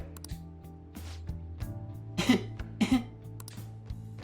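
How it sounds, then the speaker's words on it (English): A character in Persona 5 Royal coughs, a couple of short throaty coughs and a throat clearing over soft game background music. "Can't seem to shake this cough."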